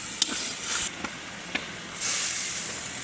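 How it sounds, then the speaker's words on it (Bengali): Broth poured into a cooking taro and koi fish curry sets off a bright, sustained hiss and steam, surging in two waves with a few sharp pops and crackles along the way. "এখন ঝোল দিয়ে দেবো।"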